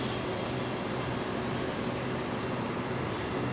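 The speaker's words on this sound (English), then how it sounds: "We have a FedEx 767 now." A FedEx Boeing 767 at LAX gives a steady, broadband jet roar that holds an even level throughout, with no voices.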